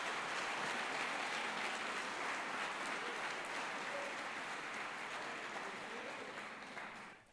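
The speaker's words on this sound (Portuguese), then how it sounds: "Você pode aplaudir ao Espírito Santo aqui." A church congregation applauds steadily, with dense continuous clapping that holds for several seconds and then fades and stops near the end.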